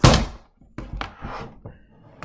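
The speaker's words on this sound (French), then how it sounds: "encore une fois mon chat, il vient de faire tomber un cadre" A picture frame knocked over by a cat lands with a loud thunk, followed by a few softer knocks and clatters as it settles, heard alone in a quiet room.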